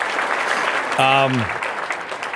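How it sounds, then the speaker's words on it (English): A crowd at a fishing expo hall of fame induction claps and cheers loudly throughout, with a brief voice rising above the applause. "Again, another round of applause"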